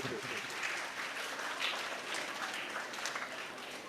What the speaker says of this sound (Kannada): ನಾವೆಲ್ಲರೂ ಇವತ್ತು ಜೋರಾಗಿ ಚಪ್ಪಾಳೆಯನ್ನು ತಟ್ಟುವ ಮೂಲಕ ಅವರಿಗೆ ಅಭಿನಂದನೆಯನ್ನು ಸೂಚಿಸಬೇಕು.